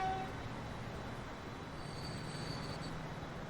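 A train in the video game Transport Fever rolls along with a low, steady rumble of wheels on track, faint and continuous, with a brief thin squeal near the start and a high whine later.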